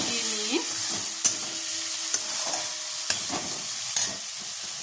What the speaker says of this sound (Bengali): শুকনো মশলাটা দেবো, আবার 1-2 মিনিট কষিয়ে নিয়ে